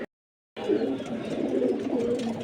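Bagha and Giribaz pigeons coo at a pigeon farm after a brief silence, a dense, continuous chorus of low, overlapping throaty coos heard close by, with no talk.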